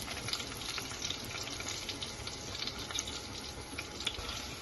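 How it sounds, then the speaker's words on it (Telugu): Jackfruit pieces fry in a pan of oil with cloves, bay leaf, cinnamon and cardamom, giving a soft, continuous sizzle and crackle with faint spattering throughout. "పనసకాయ ముక్కలు నూనెలో బాగా వేగాలి."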